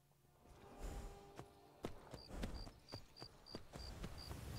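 Hooves of a horse in Skyrim clip-clopping in a steady walking rhythm, fairly close and moderately loud, with a faint repeating high chime and soft game ambience behind.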